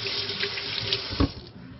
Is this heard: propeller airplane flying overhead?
no